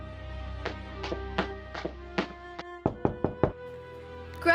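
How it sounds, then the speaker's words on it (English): Knocking at a side door, a run of about five separate raps followed by a quicker cluster of four, fairly close and alone with no voices. "his father came knocking at one of the side doors"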